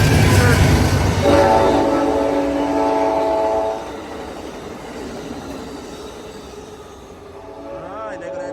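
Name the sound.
Amtrak Coast Starlight train with P42 locomotive passing station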